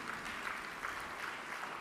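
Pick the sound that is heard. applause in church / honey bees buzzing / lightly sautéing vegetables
applause in church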